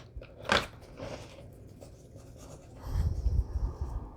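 Journal paper pages being trimmed for a handmade junk journal, with a sharp close cut or tear followed by soft rubbing and rustling of paper, then a louder low shuffling toward the end.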